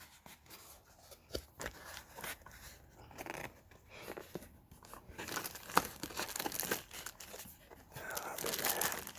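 Sticky tape peels off and plastic packaging crinkles while an Omron upper-arm 3 Series blood pressure monitor is unboxed. Close, irregular rustles and tearing bursts grow louder toward the end, with soft talk underneath.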